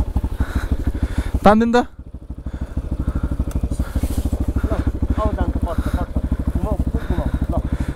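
A motorcycle thumps along a rough off-road track in Rolpa and Rukum, its engine pulsing steadily and close, with rider commentary spoken briefly over it.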